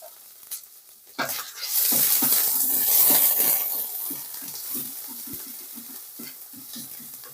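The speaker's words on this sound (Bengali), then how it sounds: "কাঁচা লঙ্কা বাটা দিয়ে এটাকে একটু নেড়ে চেড়ে নেব" A spoon stirs ginger and green chili paste, with onion paste, frying in a pan for stuffed pointed gourd dolma. It gives a burst of sizzling and then a run of short, rhythmic scraping strokes, close by.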